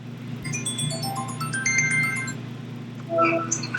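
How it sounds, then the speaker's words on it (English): Mobile phone ringtone for an incoming call, a melodic electronic tune of bright stepped tones, repeated in phrases over a low steady hum, with no voices. "I answered the phone."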